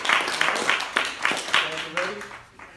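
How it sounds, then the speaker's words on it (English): Audience applause for a performer named Lou: a steady patter of many clapping hands, fairly close and lively, tapering off toward the end. "Give Lou a big round of applause for having me out there."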